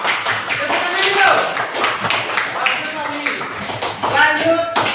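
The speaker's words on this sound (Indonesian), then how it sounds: "Tepuk tangan dulu." Hands clap in a classroom-style lesson, rapid sharp taps scattered across the whole stretch, close and moderately loud, with a voice talking over them.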